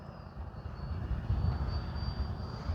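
A remote-control jet aircraft makes a flyby pass, its faint turbine whine and airy roar swelling slightly in the distance.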